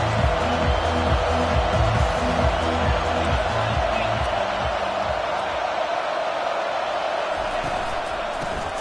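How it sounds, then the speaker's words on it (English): Broadband roar of a stadium crowd in an NCAA college football video game, loud and sustained throughout without letup, with a low rhythmic pulse underneath like chanting or music. "This crowd trying to show them what it's going to be like all day in this house."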